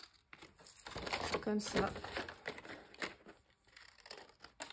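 Paper is folded along its creases to form a tab for a scrapbook album page, giving close, soft crinkling and rustling while someone speaks French.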